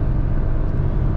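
A Fiat Argo with a 1.0 three-cylinder engine roars steadily while driving, a dense low rumble heard close and loud with no change in pitch over a short stretch.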